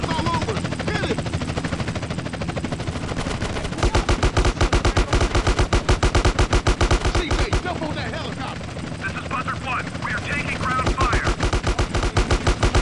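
Rapid automatic gunfire from GTA San Andreas during a police chase, loud bursts of machine-gun shots with a helicopter thrum underneath, continuous and close.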